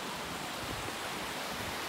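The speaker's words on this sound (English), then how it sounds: "Oh, look, the waterfall." A waterfall along a natural bridge hiking trail gives a steady, even rush of falling water. The roar is continuous and fairly soft, with no break and no voices.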